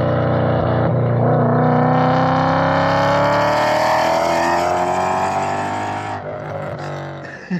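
A modified 2015 Ford Mustang GT V8 with headers, a new intake manifold and 500 horsepower: a loud, close, deep rumbling exhaust that revs up and slowly winds down, holding a strong throaty idle-to-rev tone.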